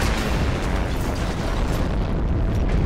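Loud, sustained explosive rumble from a tank blowing up in the Heroes and Generals video game, a dense roaring boom that fills the whole stretch without pause and with no voices over it.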